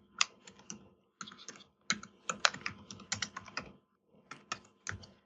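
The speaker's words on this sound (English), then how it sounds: "Well, while you're typing" Bursts of typing on a computer keyboard, clusters of quick close key clicks separated by short pauses, with no one talking.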